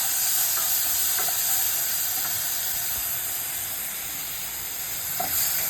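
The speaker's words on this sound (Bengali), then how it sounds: "পেঁয়াজ বাটাটা দেওয়ার পর ভালোভাবে নেড়ে চেড়ে কষিয়ে নেব" Onion paste stirred and fried in a pan for a Bengali yogurt bhetki fish curry, a steady loud sizzle and hiss with a few faint spoon scrapes and no voices.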